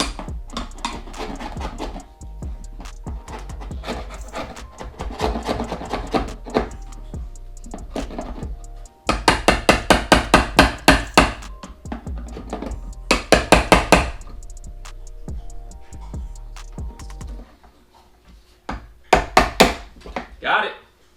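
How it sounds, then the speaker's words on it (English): Sharp chisel hammered through old, fatigue-cracked plastic airbox clips on a Volvo 745 turbo gives a run of crisp, close impacts in quick bursts, with scraping and cutting between strikes and a voice talking over parts of it. "I got a chisel here. Just going to chisel this off."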